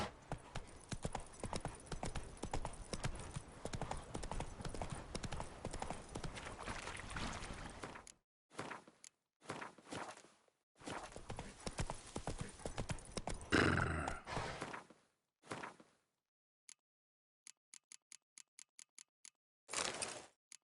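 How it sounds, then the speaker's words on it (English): Hooves of a galloping horse in The Witcher 3 video game, a steady clip-clop run for about eight seconds, then broken bursts of hoofbeats and a whinny, with quiet gaps and a few sharp ticks. "Run, Roach."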